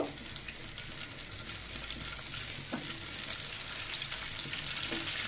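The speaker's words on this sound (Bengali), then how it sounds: "শুকনো মরিচটাকে আমি ভালো করে ভেজে নিব।" Dried red chillies fry in hot oil in a pan on a stove, giving a steady, close sizzle and crackle with occasional stirring scrapes throughout, no voices.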